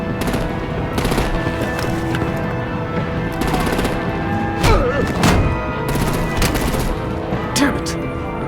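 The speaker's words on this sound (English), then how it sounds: "Break out the artillery and disable their vehicles!" Rapid automatic gunfire and heavy artillery thumps rattle through a Batman: The Enemy Within game scene, steady and loud, with several sharper booming impacts standing out over the continuous din.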